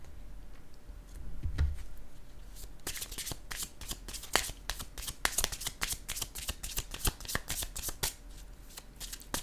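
Tarot cards riffled and shuffled close by in rapid crisp bursts of flicking taps, starting after a quiet opening and continuing steadily to the end.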